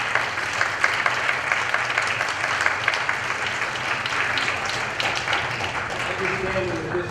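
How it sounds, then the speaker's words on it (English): An audience at a Parker Jewish Institute gathering in New York gives a round of applause, a rapid crackle of many hands clapping with voices mixed in underneath, holding steady for several seconds. "let's give all who were involved in making this happen a round of applause"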